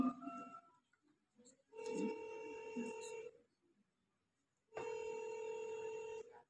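Ringback tone on an outgoing phone call, heard as two long, even electronic rings separated by a short silence, fairly quiet and close, with a brief bit of sound just before the first ring.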